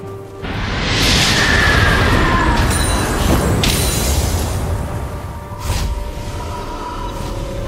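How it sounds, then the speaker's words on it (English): A turret being destroyed in League of Legends, heard as a loud, sustained crashing rumble with whooshing layers and a later secondary burst, all game audio with no voices. "Red Team's turret has been destroyed."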